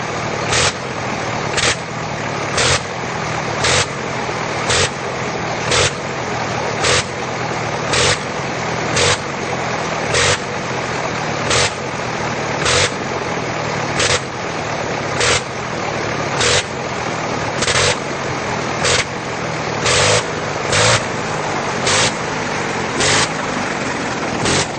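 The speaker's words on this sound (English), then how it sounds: "Even on the ground, it's obvious the engine is hard to handle" A Sopwith Camel's rotary aircraft engine runs on the ground, giving a steady loud roar with a sharp, regular pulse about every second throughout, and no voices.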